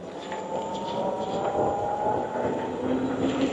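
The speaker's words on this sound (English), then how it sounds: "These Ultraverse tires are so far so good. So they make slightly more noise than the others, but not a lot though." Ultraverse tires rolling along on a 60V Goat Power electric bike, a continuous broadband whirring road noise with a faint tonal hum, steady and fairly close, with no voices.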